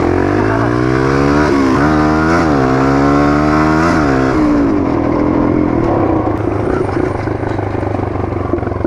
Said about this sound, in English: Here, shut your bike off here.